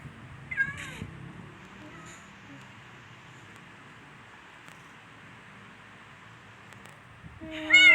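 In the video game Minecraft, a cat gives a short meow early on, then the scene is quiet and low, and a louder meow or caterwaul cuts in at the very end.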